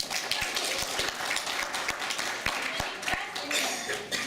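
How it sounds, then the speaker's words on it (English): Audience applause for a mayor at a talk on medical cannabis law, a fairly close, dense patter of hand claps running throughout. "Everyone should clap for Mayor Bob Fellner."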